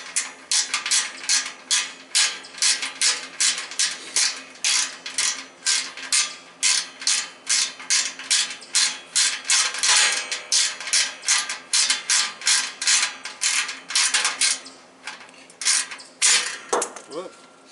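Rapid ratcheting clicks in a long steady run as a bolt is driven into a Woodmizer LT15 sawmill, close and fairly loud, with a brief pause near the end before a few final strokes.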